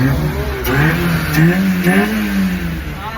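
A car engine revs loudly and close during servicing, in pouring rain, rising and falling in pitch through several throttle blips, with a constant rough idle underneath.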